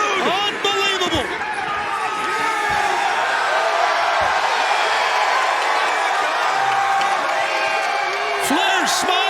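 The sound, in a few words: wrestling arena crowd cheering wildly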